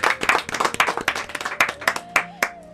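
Enthusiastic audience applause for a lyricist at a patriotic-song music show, a dense burst of many hands clapping close and loud, with a sustained musical tone running underneath.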